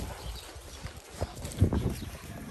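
Horse hooves clip-clop at a close distance during vaquejada training at a park arena. A few uneven thuds stand over quiet background noise, with the louder steps coming near the end.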